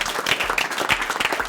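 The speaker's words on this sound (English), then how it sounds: "Give yourself a round of applause," Studio volunteers at a live newscast break into brief, dense applause, a steady wash of overlapping claps heard close and fairly loud with no voices over it.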